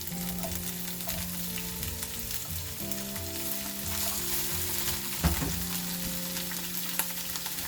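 Broken broccoli florets fry with garlic in a pan for an omelette, giving a busy, close sizzle with scattered crackles, sharp pops and clinks of stirring, and no talking.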